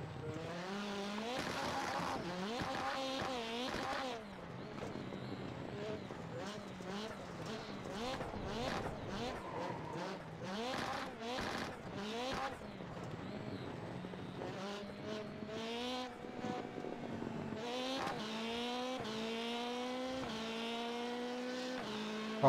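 Volkswagen New Beetle rallycross car in a Red Bull Global Rallycross racing video game, engine revving and shifting continuously with repeated rising pitch sweeps and bursts of tire squeal, loud and close throughout.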